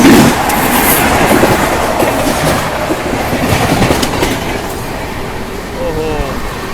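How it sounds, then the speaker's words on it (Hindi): The CSMT Gorakhpur Antyodaya Express rumbles past on an Indian railway line, with a loud, steady clatter of wheels on track, faint squealing near the end and voices talking over the noise. "अभी देखो सामने से ये आ रही है CSMT गोरखपुर अंत्योदय एक्सप्रेस।"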